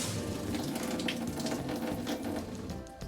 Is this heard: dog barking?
no